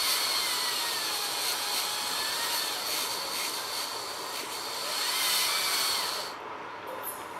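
Dental finishing disc removing excess composite from the incisal edge of a Class IV restoration, a steady high-pitched whirring grind with slight fluctuations, close and continuous without talk.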